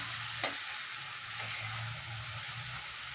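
Tangra fish stir-fries in a pan with a soft, steady sizzle, with a sharp spatula tap near the start and faint scraping as it is turned.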